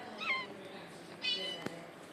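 A cat meows in a video game, two short mewing calls at low level with a sharp click near the end, under a quiet background.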